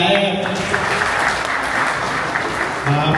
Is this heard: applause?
yes